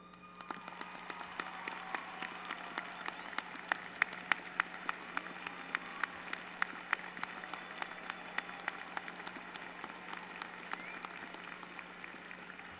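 Graduates at a spring commencement ceremony applaud in a large hall, a fairly faint, sparse crackle of individual claps sustained over a low steady hum.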